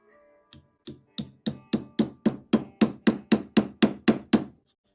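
A hammer drives tacks into a wooden Shaker box with about fourteen sharp, evenly spaced taps that start light and grow steadily louder, close by and alone.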